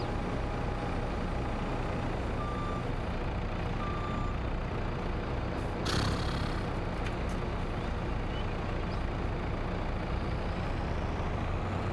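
A truck in a farming video game set on an Iowa farm rumbles loudly and steadily throughout, with a few short beeps early on and a brief hiss partway through, like an air brake releasing.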